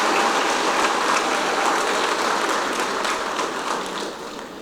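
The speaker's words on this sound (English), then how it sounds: "Let's give them a round of applause" Audience applause for city employees at a State of the City event, a loud sustained wash of clapping that fades slightly toward the end.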